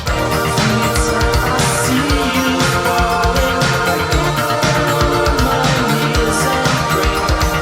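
An excerpt of a song plays continuously, a dense, loud eighties synth-pop track with layered synthesizers, driving drums and bass filling the mix.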